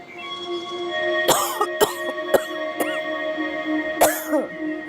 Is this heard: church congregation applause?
no